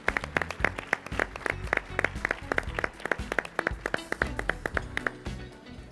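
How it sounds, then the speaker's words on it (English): Scattered applause from a small audience at a business incubator event as a couple is welcomed, with distinct individual claps in a quick, uneven rhythm, fairly close and steady throughout with no talking. "Let's give them a round of applause."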